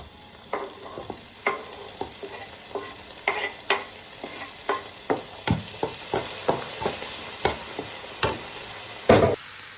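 Chilli and tomato sautéed in a pan, with a steady sizzle under repeated spatula scrapes and stirs knocking roughly every half second, close and fairly loud, ending in a sharper clatter.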